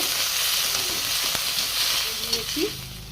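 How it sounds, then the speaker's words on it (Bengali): Ginger and garlic paste fry in a pan for a rohu fish curry with potato and cauliflower, a continuous close sizzle and hiss with a couple of faint scrapes near the end. "আর দেব হাফ চামচ আদা বাটা, হাফ চামচ রসুন বাটা দিয়ে ভালো করে ভেজে নেব"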